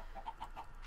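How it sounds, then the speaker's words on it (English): A Minecraft chicken clucks in a quick series of four or five short, clear clucks, close and distinct over quiet game background. "A chicken. Chicken,"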